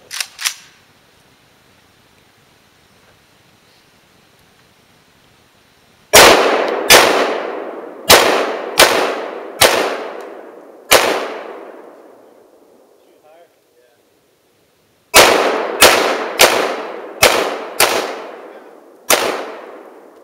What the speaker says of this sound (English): Okay, the 45 didn't do it. What about the AK?